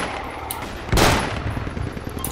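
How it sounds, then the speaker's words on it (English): A single loud shotgun blast in Project Reality gameplay, sharp and close, set against a busy background of distant gunfire and battle noise that continues after the shot. "that was a good shotgun there"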